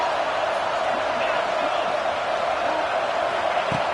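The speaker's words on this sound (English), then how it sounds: "It's early, but this crowd is fired up. Listen to this noise here." A fired-up stadium crowd in a college football video game roars as a steady, dense wash of noise that holds at constant loudness throughout, with no distinct cheers standing out.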